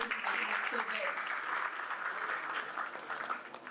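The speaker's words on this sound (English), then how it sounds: "A round of applause for all of you." Applause from the audience at a Pakistan US alumni reunion in Karachi fills the hall, a dense wash of clapping that starts strong and gradually thins toward the end.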